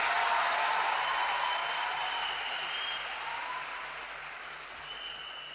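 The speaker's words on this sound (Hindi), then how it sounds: "तो एक बार जोरदार तालियां देश के प्रधानमंत्री नरेंद्र मोदी जी के लिए।" Loud, sustained applause from a large audience at a political rally in India, steady clapping filling the space for several seconds before gradually thinning and easing off, with no talk over it.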